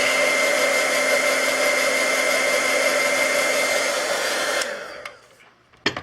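A hair dryer runs continuously at close range while drying a dragon's eye craft piece, a loud steady whir that cuts off near the end, followed by a brief clatter.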